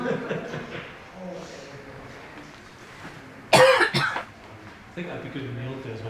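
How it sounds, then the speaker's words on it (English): Audience members cough in a snooker hall during a frame, with a sharp loud burst of coughing in the middle, set against quiet murmuring room tone and soft speech before and after. "Sorry, the audience is coughing."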